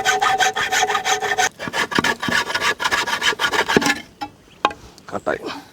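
A blade saws and rasps through bamboo pieces outdoors for bamboo biryani, rapid rhythmic scraping strokes up close that stop abruptly, followed by a few sparse knocks and handling sounds.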